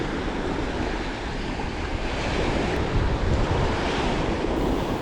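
Waves wash steadily onto the beach at Puerto Morelos, a dense continuous surf roar with some wind buffeting the microphone, close and unbroken throughout.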